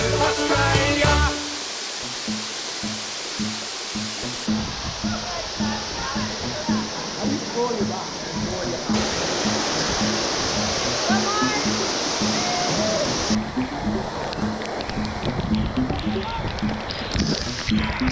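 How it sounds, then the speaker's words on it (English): Florence Falls, a waterfall in Australia, roars as a steady broadband rush of falling water close by, continuous throughout with brief music-like tones at the start. "we made a stop at Florence Falls. Check out the falls and go for a dip."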